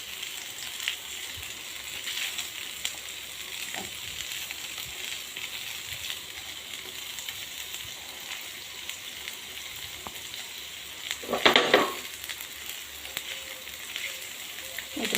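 Soft paneer stir-fried in a pan, turned by hand, giving a constant moderate sizzle with faint scraping and one louder burst of crackling sizzle late on, with no talking.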